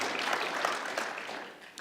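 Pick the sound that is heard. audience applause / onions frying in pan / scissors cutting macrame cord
audience applause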